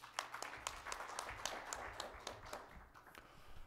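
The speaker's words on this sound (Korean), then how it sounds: "박수로 맞이하겠습니다." An audience in a church symposium hall claps in welcome for an association president, scattered hand claps that are faint and distant, thinning out toward the end.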